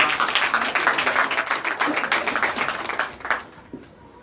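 A church congregation at a Sunday worship service in Benin claps and cheers in acclaim, a lively burst of hand-clapping that fades out near the end.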